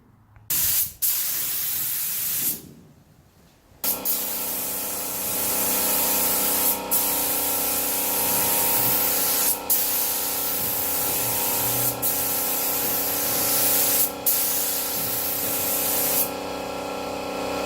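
A spray gun lays an epoxy primer coat onto a Ford F250 dashboard, a steady loud hiss running for many seconds with brief pauses and a short break near the start.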